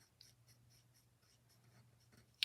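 A blending tool rubs softly over pencil shading on a paper tile in faint, repeated strokes, very quiet and close, with a low background hum and a small tap at the end.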